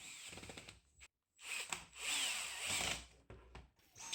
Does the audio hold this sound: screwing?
yes